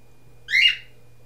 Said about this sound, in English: I hate that bird.